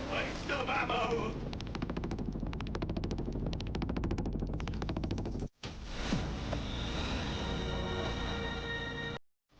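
Sustained rapid automatic gunfire in a crime action shooter game, loud and continuous bursts with a brief gap, then more firing mixed with debris and effects; a voice speaks over the shooting.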